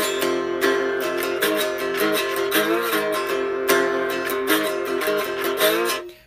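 A cigar box guitar plays a dry, unamplified riff with no reverb or delay. Steady plucked notes and rhythmic strums fill the passage at a close, even level, then stop abruptly at the end.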